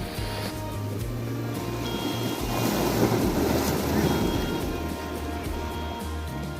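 Ocean waves roll in and wash over the sand at a beach campsite. A steady surf roar builds to a louder surge midway and then eases back, mixed with wind rumble on the microphone.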